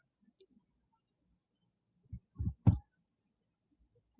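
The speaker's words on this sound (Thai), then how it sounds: "เสียงจักจั่นบ้านลุงเสียงดีจัง" Cicadas chirp in a steady, evenly spaced high-pitched pulse throughout, with a few dull low thumps breaking in midway.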